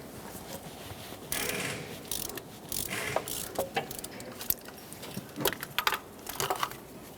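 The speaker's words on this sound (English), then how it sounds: "We're going to remove that using a 14mm right on that center mounting bolt." Ratcheting clicks and metallic turning as a 14mm socket loosens the center bolt of an idler pulley on a 2011-2020 Toyota Sienna 3.5L V6, close and irregular, in short bursts with pauses between them.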